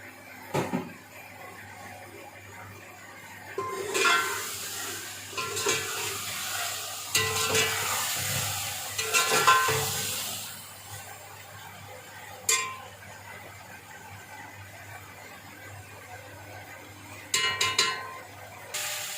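Meat for chicken pulao sizzles softly in a pot while being stirred, with intermittent scraping bursts and a few clinks against the pot, no voices.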